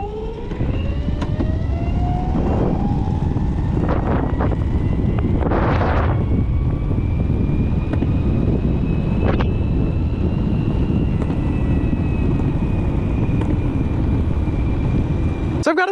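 Steady, loud wind buffeting the microphone while riding a board at about 40 mph, a continuous roar that fills the whole stretch with a few brief gusty surges over it.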